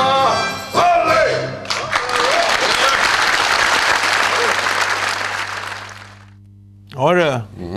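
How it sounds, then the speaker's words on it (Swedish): A burst of audience applause with some cheering rises after a brief spoken line, swells into a thick clapping wash for several seconds, then fades away before a voice returns at the end. "vi hörde applåder"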